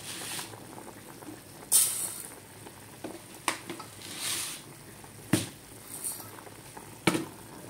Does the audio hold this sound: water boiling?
yes